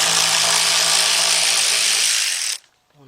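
A 10mm deep 3/8-drive socket driven by a power tool spins off a plastic nut near the windshield washer tank of a Volkswagen Beetle, a loud steady whir lasting over two seconds before cutting off abruptly.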